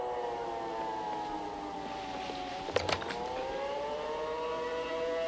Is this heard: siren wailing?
yes